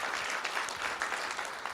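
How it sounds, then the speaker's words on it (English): Steady, dense applause from a school board meeting audience honoring the Director of Bands at Boerne High School, sustained and even throughout with no speech over it. "Let's give Mr. Person a hand as well."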